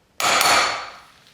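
A single sharp metal tap from a light hammer on the final drive of a 1977 BMW R75/7 motorcycle rings out loud and close, then fades away quickly.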